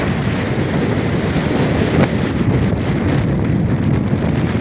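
Strong wind gusts in Iceland roar continuously into the microphone, a loud close buffeting rumble with broadband rushing noise throughout, no voices.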